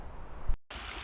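A creek flows near Mill Cabin Trailhead in the Withington Wilderness. A steady broadband rush of running water fills the air, broken by a brief moment of silence before the flow resumes.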